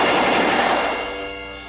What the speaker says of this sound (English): it sounds like machine gun fire